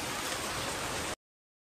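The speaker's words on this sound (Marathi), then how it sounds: "पाऊस एवढा तुफान आहे ना" Heavy rain pours steadily in a dense, hissing wash, loud and close, then cuts off abruptly after about a second.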